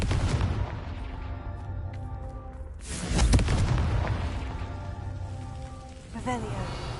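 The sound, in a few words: Confringo fire spell explosion from a video game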